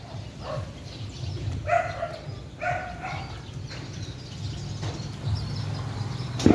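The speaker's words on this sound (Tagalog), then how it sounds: "Daming aso dito sa lugar namin." Dogs bark in short bursts at a moderate distance, several barks scattered over a constant background hum, with faint bird chirps.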